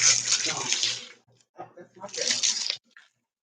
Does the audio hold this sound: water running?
yes